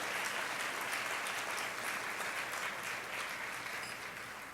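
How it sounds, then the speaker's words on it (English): At a health and science awards ceremony, an audience breaks into steady, full applause, dense clapping holding evenly for several seconds and easing slightly near the end. "Give yourselves a round of applause."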